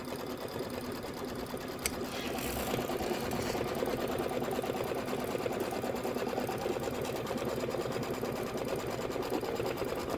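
A Kimberbell embroidery machine stitches out a holiday design, a fast, even, mechanical needle patter running continuously at close range and moderate volume, with a brief faint click near the start and no speech.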